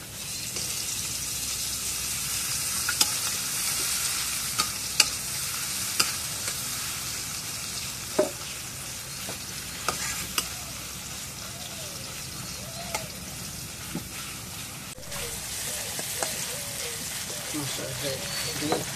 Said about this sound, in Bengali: এখন তেলের মধ্যে পেঁয়াজ দিই